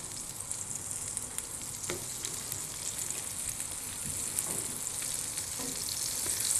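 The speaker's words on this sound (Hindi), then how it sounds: "अब हम इसके अंदर अपने ये जो ब्रिंजल हैं इनको मैं हल्का हल्का फ्राई करूँगा" Eggplant frying lightly in hot oil, a steady bright sizzle with scattered small crackles and pops, close and even throughout with no voices.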